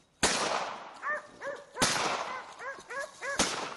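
Hunting dogs bark at a wild boar in several sharp, loud bursts, with yelping cries and short whimpers between them over about four seconds.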